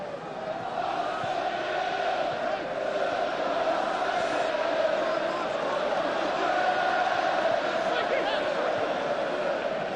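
Capacity crowd of 38,000 at a 2002 Arsenal versus Celtic friendly football match, a steady, dense roar of murmuring and cheering filling the stadium throughout, with a voice talking over it.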